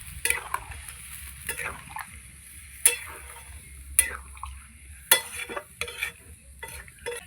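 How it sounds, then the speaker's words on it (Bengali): Goat liver and fat frying in a pan just after water goes in, with a steady soft sizzle under repeated scraping stirs and occasional sharper utensil knocks against the pan, close and with no talking. "এবার জল দিয়ে দিচ্ছি, আমার কষানো হয়ে গেছে।"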